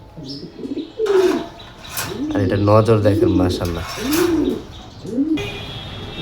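A male Cavendish pigeon coos in soft, rounded, repeated calls close by, mixed with light chirps and someone talking over it.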